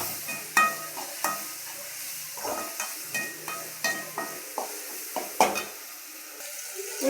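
Chicken dish ingredients sautéing in a pan, with repeated stirring scrapes and clinks of a utensil over a steady low sizzle, close and fairly loud with no talking.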